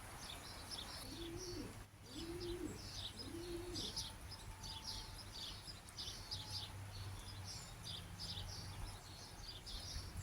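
Pigeons or doves coo three times in quick succession close by in a countryside cottage attic, low soft calls over steady chirping and a constant background hum.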